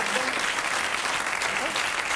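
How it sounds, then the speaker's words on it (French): Studio audience applauding on a French television game show, a steady dense clatter of clapping hands filling the whole stretch at close range, with faint voices mixed underneath. "On applaudit Marika"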